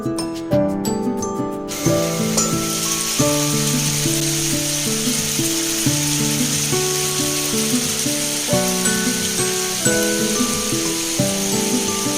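Food mixed with chili powder and raw mustard oil fries in hot mustard oil in a wok, producing a steady, bright sizzle that carries under background music.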